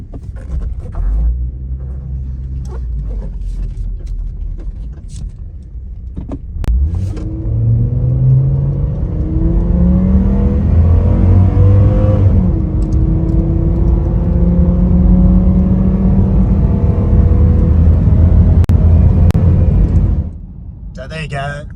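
A Hummer H3 fitted with a throttle controller pulls away from idle and accelerates hard from the cabin, engine note climbing through several gear-like rises before dropping off near the end, loud and close with rumble underneath.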